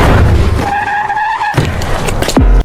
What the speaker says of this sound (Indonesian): tiba-tiba ia ditabrak oleh mobil yang dikendarai oleh Insu